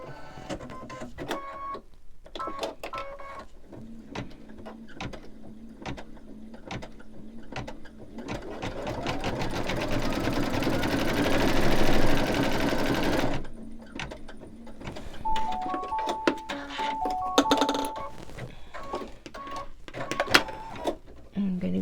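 An embroidery machine stitches a snowman design for a mug rug, a steady mechanical whirring run in the middle of the clip with clicks and beeps before and after, and some talk nearby.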